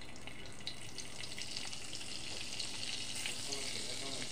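Chicken fries in a little white oil and butter in a home kitchen, a steady broadband sizzle with faint crackles running throughout at moderate level.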